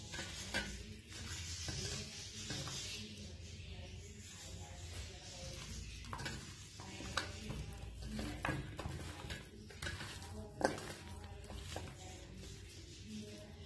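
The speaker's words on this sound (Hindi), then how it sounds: "इस तरह सारे मसाले इसमें मिक्स कर देंगे हाथ की मदद से।" Hands squishing and kneading chicken pieces in a spice marinade, a soft, close, wet squelching and patting that comes in irregular bursts with a few sharper slaps, fairly quiet overall.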